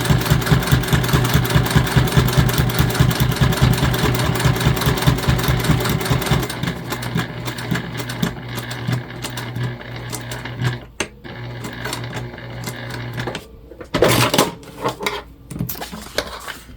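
A sewing machine top-stitches a fabric gift bag in a fast, even run of stitching for several seconds, then stops, leaving a low motor hum broken by a few short bursts.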